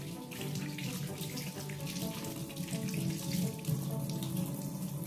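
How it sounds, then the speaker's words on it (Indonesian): A tap runs steadily into a sink while hands rinse under the stream, a continuous close splashing with no talk. "Selanjutnya, kita bilas kembali kedua tangan kita sampai sabunnya hilang."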